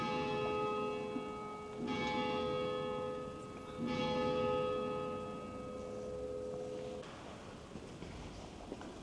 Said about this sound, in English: oh, there's the bells again